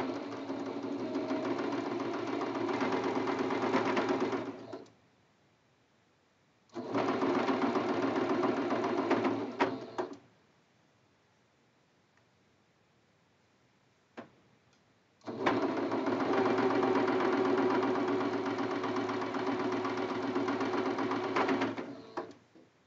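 A sewing machine stitches a Churn Dash quilt block seam in three long, steady runs separated by pauses, with a few faint clicks in the gaps.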